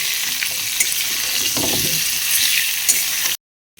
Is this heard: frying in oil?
yes